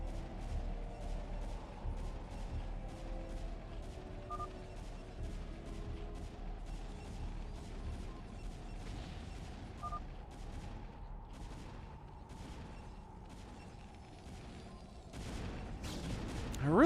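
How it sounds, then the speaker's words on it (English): Distant cannon fire from a StarCraft: Brood War free-for-all match comes as a long run of sharp repeated bursts, a steady volley under ongoing game noise, with a louder cluster near the end. "I really hate that you can hear cannons firing across the entire map."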